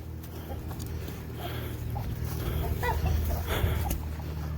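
Agitated backyard chickens cluck and squawk in scattered bursts, close by over a steady low background hum.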